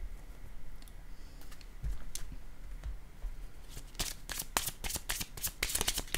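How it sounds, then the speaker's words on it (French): Tarot cards are handled and laid on a table close up: soft shuffling and sliding rustle at first, then a quick run of crisp card snaps and taps toward the end, with no talking. "je vais déposer une autre carte ici"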